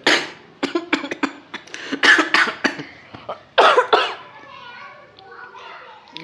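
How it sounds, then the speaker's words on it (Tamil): Repeated short, sharp coughs in quick bursts, close by, mixed with a child's chatter and playful voices. "இருமல்ஸ்"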